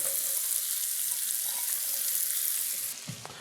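Thinly sliced cremini mushrooms sizzle in a pan for Steak Diane, a steady close hiss that runs evenly before a brief clatter near the end.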